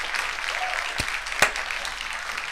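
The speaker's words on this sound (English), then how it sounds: "Please clap." Team members applaud and cheer after a SpaceX Falcon first-stage booster lands on a Starlink launch; steady, dense clapping holds at moderate level, with a couple of sharper bursts, as if from a control room away from the microphone.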